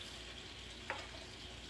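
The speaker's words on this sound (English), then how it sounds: "we got some good old bacon smelling good here going on" Bacon crisping in a pan gives a steady, soft sizzle and crackle throughout, with one brief sharper pop near the middle and no voices.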